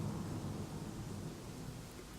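Rain and thunder as an audiobook sound effect: a steady wash of rainfall with low rolling thunder rumbling underneath, soft and continuous with no voices.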